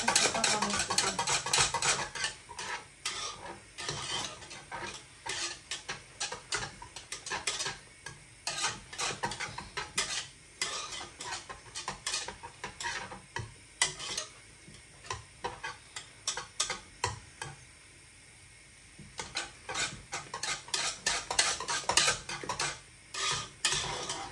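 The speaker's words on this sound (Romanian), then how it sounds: "Și atunci doar amestecăm." Balmoș with sour cream is stirred in a pot with a utensil, giving a steady run of soft ticking scrapes and clinks against the pot, close and fairly quiet, with no talking.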